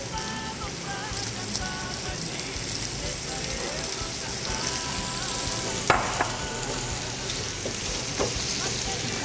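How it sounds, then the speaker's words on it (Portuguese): Cubed, desalted and precooked dried beef sautéing in rendered bacon fat in a pan, a dense, steady sizzle and crackle like light rain, with occasional utensil knocks, heard close and continuous. "Agora eu só vou refogar um pouquinho para a gente conseguir um pouco dessa gordura do bacon"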